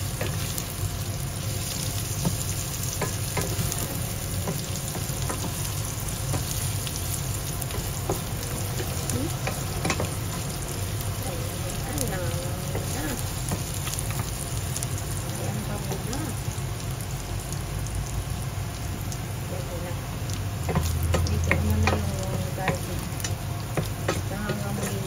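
Garlic browning in hot oil in a pan, a continuous crackling sizzle with light stirring, heard close and fairly loud throughout, with no voices.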